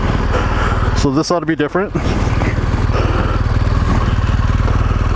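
A BMW 1200 GSA motorcycle on a demo ride, its engine droning steadily and loudly up close with a pulsing rhythm, while a rider talks briefly over it.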